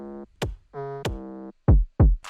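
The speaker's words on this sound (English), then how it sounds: "With the 808, it sounds like this." Deep 808 bass hits with long pitch-gliding tails alternating with sustained synth chords in an FL Studio Afro/moombahton remix, booming and rhythmic, with no voices.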